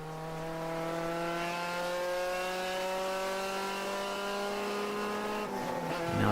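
A race car engine drones steadily at high revs on a track during an endurance race at the Pittsburgh Grand Prix, its pitch shifting slightly, with a brief tire scuff near the end.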